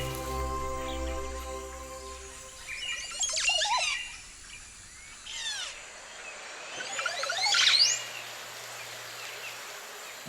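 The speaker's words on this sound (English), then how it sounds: "The Montezuma oropendola, a Caribbean bird, emits another peculiar sound, this one accompanied by choreography." A male Montezuma oropendola, a Caribbean bird, gives its liquid bubbling, gurgling display song in several close, rising bursts separated by quieter gaps, with faint insect and forest background.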